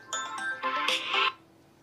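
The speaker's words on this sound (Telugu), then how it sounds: "ఫోన్ వస్తుంది." A mobile phone ringtone plays in a domestic village setting, a short melodic electronic tune of a few bright tonal bursts lasting about a second, close and fairly loud, then cutting off into quiet.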